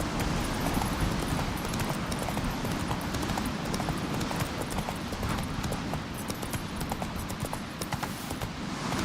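Horse hooves clip-clopping as a rider sets off in The Witcher 3, a dense, steady run of hoofbeats heard close and loud throughout, with no talk.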